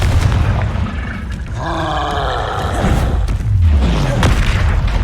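Explosive spell blasts in Hogwarts Legacy boom in close, heavy bursts, mixed with swooping magical whooshes and a deep descending rumble, loud and continuous across the clip.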